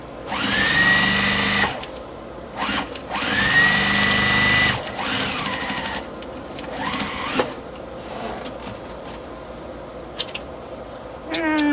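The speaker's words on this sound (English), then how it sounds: "So I'm going to line this up and stitch it." A sewing machine stitching fabric strips for a mug rug runs in close, loud bursts of rapid whirring, pausing briefly between runs, with small clicks and handling noises in the gaps.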